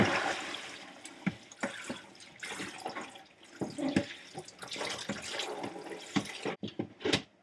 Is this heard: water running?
yes